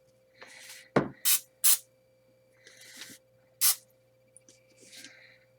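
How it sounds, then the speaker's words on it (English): Short hissing bursts of an aerosol spray, three or four quick sprays between softer rustling and handling noises nearby. "I want to add a little bit of this spray."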